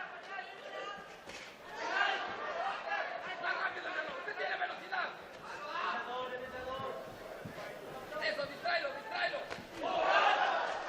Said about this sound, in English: Crowd really anxiously watching this fight.